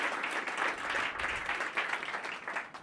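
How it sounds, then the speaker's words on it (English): Audience applause during a comedy performance, a short burst of dense clapping from the crowd, fairly faint and steady for about three seconds. "this is the big applause cue"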